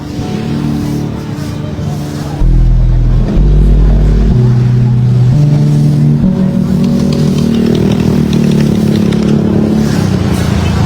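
Motorcycles and traffic pass along a wet Manila street, engines droning and revving nearby in loud shifting tones, with a voice talking over the vehicle noise.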